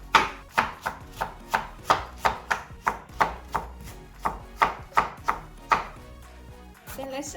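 A kitchen knife juliennes and chops vegetables on a cutting board, striking about fifteen crisp, evenly spaced chops, close and distinct, before stopping near the end.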